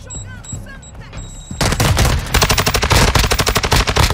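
Rapid rifle fire from an STB-556 in Warzone 2 DMZ crackles in a loud, close burst of evenly spaced shots that follows a quieter stretch of game sounds.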